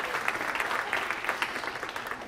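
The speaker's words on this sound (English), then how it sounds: "So thank you, please clap, sorry." Dense, continuous audience applause at an APA Utah Chapter awards ceremony during a fall conference, many hands clapping at steady volume throughout, with no speech on top.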